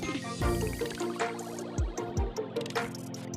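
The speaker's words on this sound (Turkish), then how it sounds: "Bir şelaleden geçiyorum." Gurgling, splashing water as a character passes through a waterfall in an underwater prison escape level of the video game Roblox, with bubbly whooshes and liquid churning at moderate volume.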